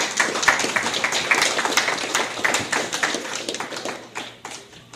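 Audience at an anniversary gathering claps in a steady, dense patter for a group of actresses; loud at first, then gradually thinning and fading over the last second.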